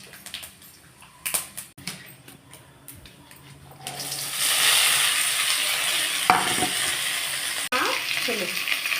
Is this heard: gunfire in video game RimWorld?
no